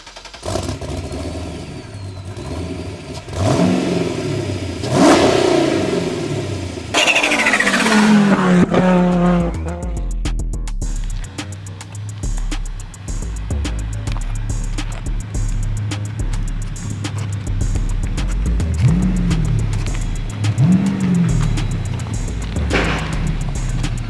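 Porsche 911 GT3 R race car with a swapped Chevy engine, revving hard and loud in repeated bursts, with rising and falling engine pitch over a steady roar and no talking.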